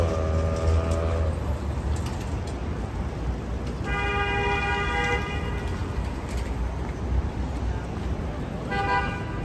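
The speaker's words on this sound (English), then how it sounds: "Why this honk?" Car horns honk on a busy Manhattan street at night, with several separate toots spread through steady traffic noise and general street din.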